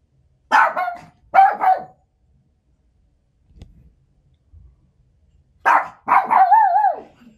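A dog barks in two close bursts, a pair of sharp barks, then a quiet gap with faint shuffling, then two more barks ending in a drawn-out whining yelp.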